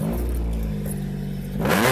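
A Honda D16 engine, just fitted with a new distributor, holds a steady low idle, then is revved sharply near the end with a rising, louder roar.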